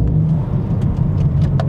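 A BMW M4 Competition sports car accelerates hard from inside the cabin, its loud, deep engine rumble pulsing with quick jolts as the gearbox shifts through the gears.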